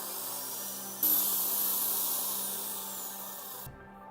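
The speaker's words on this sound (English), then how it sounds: "We'll drill the cap right in the center." A power drill whirs steadily for a few seconds through the center of a PVC pipe cap, its pitch slowly dropping, then cuts off abruptly.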